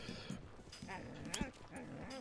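A dog whimpers and whines in the zombie western game Red Dead Redemption: Undead Nightmare, with short, restless cries over a busy game soundscape and a faint voice in the background.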